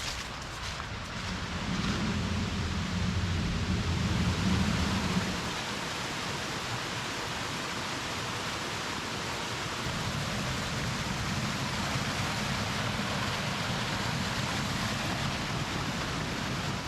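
Rushing water from waterfalls fills the scene as a steady, loud broadband roar, with a deeper low rumble that swells early on and again later, and no voices.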